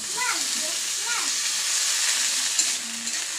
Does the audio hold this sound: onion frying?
yes